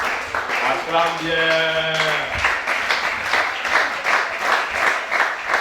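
Congregation at a prayer vigil breaking into loud, sustained applause and clapping that fills the room, while a voice speaks over it near the start.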